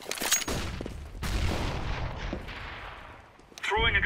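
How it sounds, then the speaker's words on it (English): A flashbang grenade going off in the CS:GO video game, a sharp loud blast followed by a long fading ringing wash, with a short burst of other game noise at the end. "Deploying flashbang."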